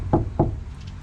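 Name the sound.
knocks on Daihatsu HiJet truck cabin panel with sound deadening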